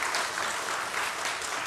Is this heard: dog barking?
no